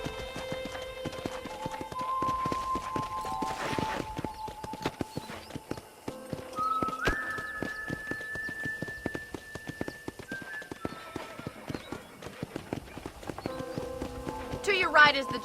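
Horse hooves clip-clop in a rhythmic stream while riding in Red Dead Redemption, moderately loud under game music and ambient tones, with a brief burst of louder hoofbeats near the end.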